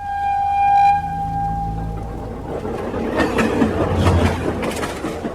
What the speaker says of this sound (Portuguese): O maldito apito do trem ecoou pelos meus ouvidos, fazendo tremer as paredes da casa.